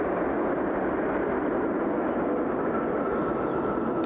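A Boeing 787-10 Dreamliner at Brussels Airport produces a loud, constant engine roar with a heavy low rumble that holds steady throughout.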